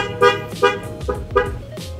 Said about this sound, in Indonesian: untuk di bagian klaksonnya juga sudah kita ganti menggunakan klakson Denso yang waterproof ya.